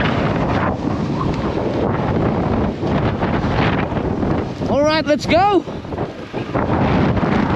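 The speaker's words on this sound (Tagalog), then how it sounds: "Tatangin ka talaga ng hangin dito." Strong, gusting wind buffets the microphone throughout at a bikers camp, a steady roar under brief speech from a man.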